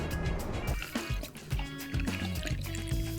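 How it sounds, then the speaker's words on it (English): Sugar syrup pouring into a pitcher of iced tea with cucumber and orange slices, a close, continuous liquid splashing and gurgling with small bubbly trickles and clinks throughout, with no speech. "Now to this, we're going to add some sugar syrup, around 90 ml of sugar syrup."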